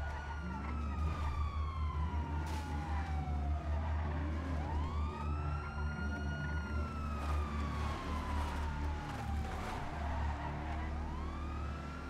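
An ambulance siren in a roleplay video game, a loud wailing tone sweeping slowly up and down over a low engine drone, continuous and close, with no talk over it.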